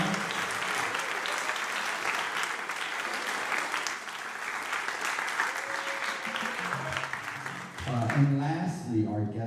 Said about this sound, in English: So can we give a big round of applause to Joy and Sam?